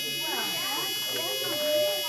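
Steady electric buzzing drone from a buzzer in a simple one-cell circuit, running throughout, with people talking over it.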